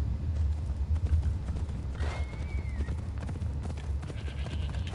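Rhythmic hoofbeats of a horse galloping in Assassin's Creed Odyssey, steady clip-clop over game ambience with a brief whinny-like tone midway.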